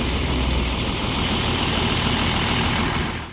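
An Eva Star bus engine idles at a bus terminal with a deep, steady, close rumble that runs unbroken with no voices.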